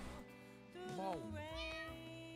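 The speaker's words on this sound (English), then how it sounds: "You hear that meow?" A cat lets out a drawn-out, wavering meow over a steady background drone, close and clear.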